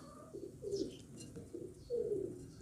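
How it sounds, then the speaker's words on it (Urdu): A female pigeon held in the hand gives soft, low coos in two short bursts, close to the microphone with faint background noise. "یہ میرے ہاتھ میں اس وقت کبوتری موجود ہے"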